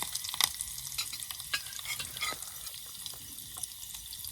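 Curry leaves and garlic frying in hot oil at a jungle campsite, a crackling sizzle broken by frequent sharp pops and stirring clatter, close and irregular, no speech.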